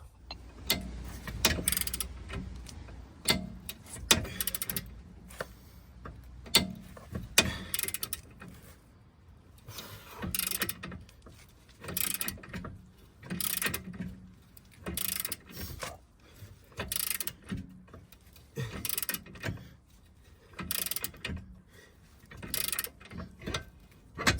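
Press tool forcing a seized, shattered wheel bearing out of an Audi A3 hub, heard as repeated ratcheting clicks and mechanical clunks in short bursts, up close and fairly quiet, with no talk.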